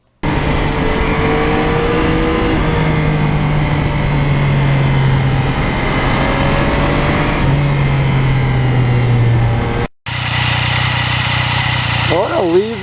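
The engine of a 2020 Yamaha MT-09 naked motorcycle drones steadily and close while it is ridden, with a smooth pitch that rises slowly, then breaks off and resumes, under a rider's talk.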